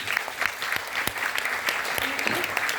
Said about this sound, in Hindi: तो एक बार मिस वर्षा के लिए तालियां होनी चाहिए